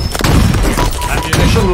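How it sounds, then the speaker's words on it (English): A plasma grenade blows up in the Halo video game during a Ghost vehicle run, a loud booming burst amid dense game noise with thumps and rumble across the short stretch. "Plasma grenade out."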